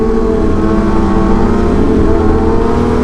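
A motorcycle ridden alongside another rider produces a loud, close engine drone that holds steady throughout, with no voices.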